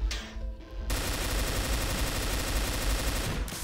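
Rapid, sustained machine-gun fire in Back to Saturn X 2, a Doom mod, loud and continuous for about three seconds after a brief quieter lead-in, with no talk over it.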